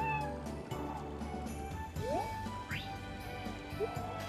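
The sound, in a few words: cat meowing in video game Harvest Moon: Animal Parade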